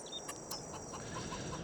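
Faint chicken clucks in Farming Simulator 22 sound over a steady, noisy game background, a few short, soft calls spread across the moment with no talking.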